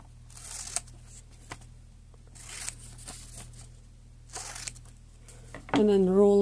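Scissors snip through a piece of plain paper in a few short, crisp cuts spaced about a second apart, close and fairly quiet, before a voice starts at the end.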